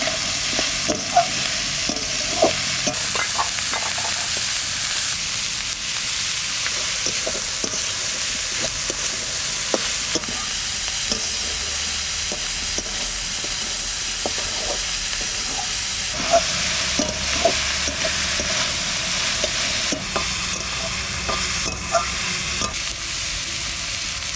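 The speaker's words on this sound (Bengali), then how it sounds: "নারকেলটা ভাজা ভাজা হয়ে গেছে, এবার মশলাটা দিয়ে দিচ্ছি" Loud, steady sizzling and crackling of coconut and spices frying in a pan, with occasional scraping stirs, and no talking.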